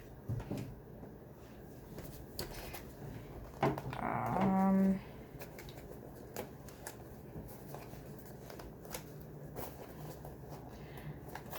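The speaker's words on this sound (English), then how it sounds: "I'm gonna shut my door real quick." A room door is pushed shut in a quiet bedroom, giving one brief, muffled thud with a short rattle of the latch, heard alone against low background hiss.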